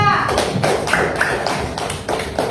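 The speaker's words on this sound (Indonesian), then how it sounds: "tepuk tangan dulu untuk kelompok 2" A classroom of students applauding for group 2, dense clapping in loud bursts that come close together and sound near, with some voices mixed in.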